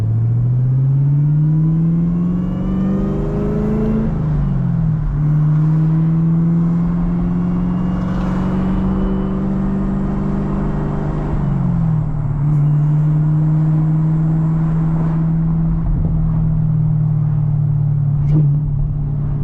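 Supercharged Chevrolet Camaro ZL1 with a manual gearbox, heard from inside as it pulls through gears, engine drone rising and dropping at each shift with a high supercharger whine riding on top, loud and continuous.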